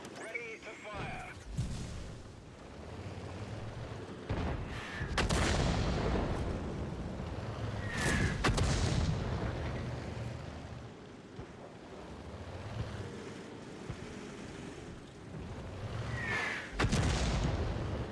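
Tank cannon shots in World of Tanks, several loud booming blasts spread across the stretch, each followed by a rumbling decay, with battle noise and engine rumble filling the gaps between them.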